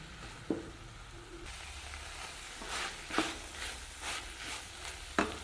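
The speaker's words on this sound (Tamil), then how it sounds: "நல்லா ஒரு 2 நிமிஷம் வதக்கிக்கலாங்க." Flat beans with salt, chili powder and coriander powder are sautéed in a pan, a soft steady sizzle broken by occasional scraping stirs and a few sharp knocks of the spoon against the pan.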